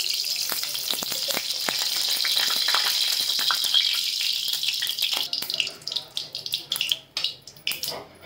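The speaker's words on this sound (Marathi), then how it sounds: "आता त्याच्यामध्ये ना 2 चमचे तेल टाकून घेते" Two spoonfuls of oil are poured into a hot kadhai on a gas stove and sizzle loudly and steadily, then the sizzle breaks into uneven bursts as the pan is handled.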